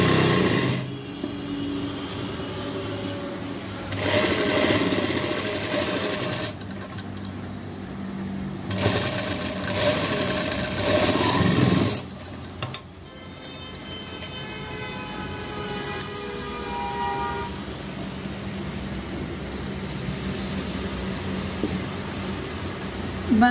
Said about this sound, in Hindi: दोनों साइड से स्टिचिंग सेम करनी है